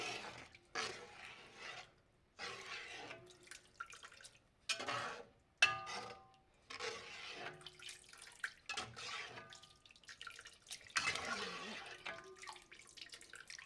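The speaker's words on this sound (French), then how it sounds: "Je rajoute de l'eau." Water poured into a pot of red beans in a home kitchen, an intermittent splashing and trickling in several bursts with brief gaps, close and fairly soft.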